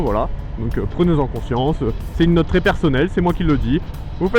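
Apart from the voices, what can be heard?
No everyday noises stand out.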